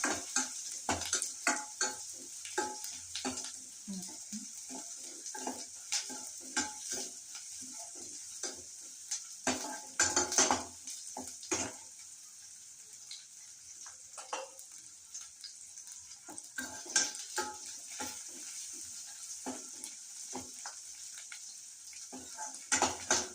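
Cut green chillies tip into a hot frying pan and get stirred, with steady sizzling broken by sharp, repeated scrapes and clinks of the spatula, close and fairly loud with no talking.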